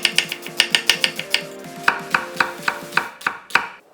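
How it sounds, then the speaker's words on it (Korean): A knife slicing an onion thinly on a cutting board, a steady run of about two dozen crisp, close chops in quick rhythm, with no talk. "양파 1개는 얇게 채 썰어"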